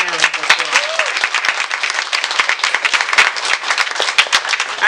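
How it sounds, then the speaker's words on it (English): An audience at a library event claps for the team, a steady burst of dense applause filling the room, with a brief voice early on. "Would you give my team a round of applause?"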